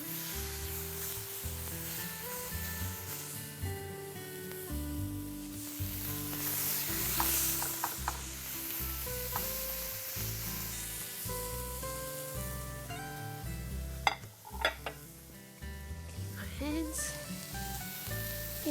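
Marinated coriander chicken frying in a hot pan, a continuous close sizzle with clatter and scraping as the pieces are moved, and music playing underneath throughout.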